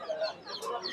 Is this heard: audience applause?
no